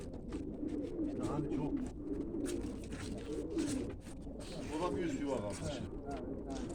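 Pigeons coo repeatedly in low, soft rolling calls, close by, over a steady background with occasional voices and movement.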